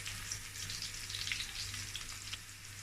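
Onions fry in olive oil with a faint, continuous crackling sizzle that stays even and close, with no voices.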